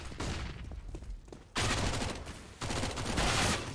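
Rapid automatic gunfire crackles in a Counter-Strike match as a player sprays through smoke, with dense bursts that start, drop out briefly, then return loud and sustained.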